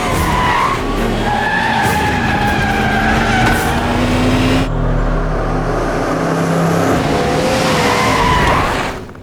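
A car skids and screeches as it drives off, tyres squealing over a loud engine roar that shifts in pitch and fades toward the end.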